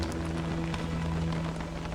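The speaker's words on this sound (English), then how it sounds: "Okay, it's raining." Steady rain pattering down in the video game Don't Starve, a continuous soft hiss held at even loudness over a low, sustained musical drone, with no voices.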